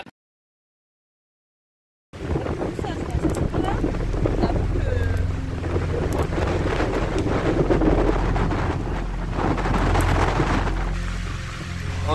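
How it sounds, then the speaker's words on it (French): After a moment of silence, strong storm wind roars and buffets the microphone with heavy rumbling gusts that persist to the end. "on est en pleine tempête"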